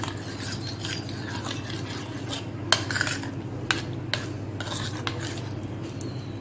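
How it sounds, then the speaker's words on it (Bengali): Pineapple halwa being stirred in a pot after food color and saffron are added, soft scraping and a few sharp utensil clinks against the pan over a low steady background hum. "এখন আমি দিয়ে দিচ্ছি ফুড কালার, দিয়ে দিচ্ছি কেশর, একটু মিশিয়ে নিচ্ছি।"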